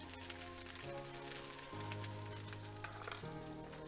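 Fried rice sizzles steadily in a hot pan as green onions and sesame oil are tossed in, a dense, even crackle with faint stirring clinks under a low steady hum, close by with no talking.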